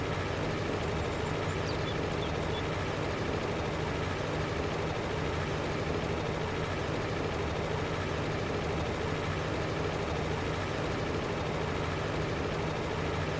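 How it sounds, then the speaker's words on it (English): Tractor engine in the Farming Simulator video game, on a farm map set at Elk Mountain, Wyoming: a steady, unbroken low mechanical drone that holds at an even loudness throughout, with no talking. "We're gonna stop our tractor for a minute."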